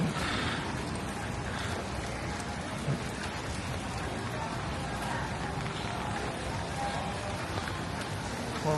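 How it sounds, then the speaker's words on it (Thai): Rain falls steadily on a Saturday night in Hanoi as a storm approaches Vietnam, a constant dense patter and hiss with scattered nearby drips, no talk over it. "โอ้ฝนยังตกอยู่เลยวะเนี่ย"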